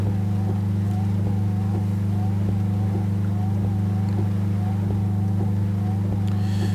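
Peterbilt 351 truck with a strong low engine drone driving at speed in Euro Truck Simulator 2, a steady loud hum with faint periodic ticks and shifts layered above.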